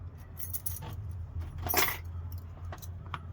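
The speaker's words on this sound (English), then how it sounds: "Got some different keys already here," Keys jangle in short clinking bursts while a Kwikset lock is being rekeyed, the metallic rattles close and moderately loud over a low steady hum.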